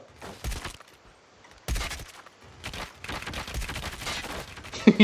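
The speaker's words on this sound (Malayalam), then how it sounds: "എല്ലാത്തിലും കൊടുക്കുകയാണ് നൂറ് നൂറ് വെടി" Rapid gunfire from the MP44 in Call of Duty Mobile during a prop hunt match, with loud repeated bursts and brief pauses between volleys, ending in sharp close shots.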